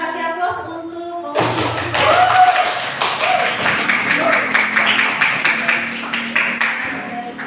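A classroom breaks into applause for a student group: after a short spoken lead-in, steady, fairly loud clapping and tapping from many hands continues to the end.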